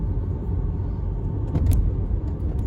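A Lamborghini passes through a car park, its engine a deep, steady rumble with a slight swell midway as it goes by, heard from inside a nearby car.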